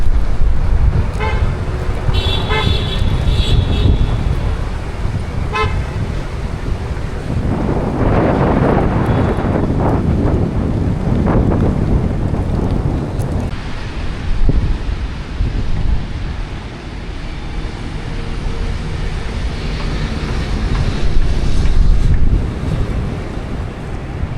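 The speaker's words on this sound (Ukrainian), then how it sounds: "так вітер у нас здійнявся" Strong gusty wind roars and buffets outdoors in Vietnam near a construction site throughout, with broadband rumble and surges, brief horn-like tones early on and occasional clatter.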